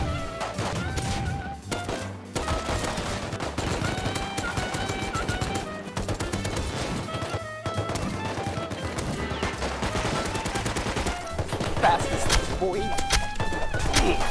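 Rapid gunfire crackles through a gun game match in a first-person shooter video game, dense overlapping shots and impacts running continuously over game sounds, with a voice speaking now and then.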